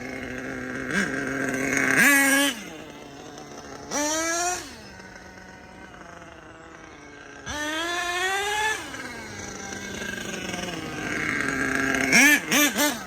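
An HPI Savage 25 nitro RC engine warming up and running lean, idling with a buzzy drone and revving in several sharp rising bursts, close and loud.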